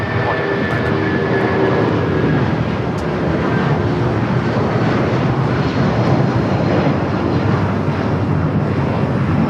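A jet airliner takes off from runway 25 right at Los Angeles International Airport, a loud, steady engine roar with wind buffeting that holds at full strength throughout.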